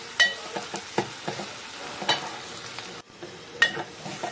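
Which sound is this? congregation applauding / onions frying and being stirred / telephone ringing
onions frying and being stirred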